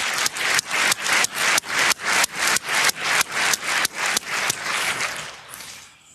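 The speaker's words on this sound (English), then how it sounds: "All right, applause for the students." An audience gives rhythmic applause for the students at a talk on e-voting security, with about a dozen loud, evenly spaced group claps that loosen into scattered clapping and fade out.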